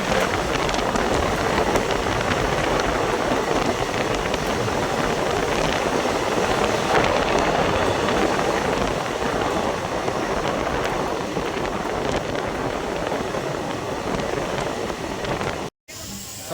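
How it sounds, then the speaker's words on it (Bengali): A passenger train running from Alipurduar Junction to Bamanhat, pulling into Bhetaguri station: steady, loud rumble and rattle of the moving coaches that continues throughout, then a sudden brief dropout near the end. "আমাদের ট্রেনটি তার যাত্রার 41 কিলোমিটার পথ অতিক্রম করে এখন এসে পৌঁছল হচ্ছে ভেটাগুড়িতে"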